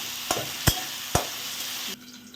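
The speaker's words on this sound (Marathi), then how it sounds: "बटाटे छान फ्राय करून घ्यायचे." Potatoes fry in a pan for fasting sabudana khichdi, giving a steady close sizzle with three sharp spoon scrapes and knocks, then the hiss drops away abruptly near the end.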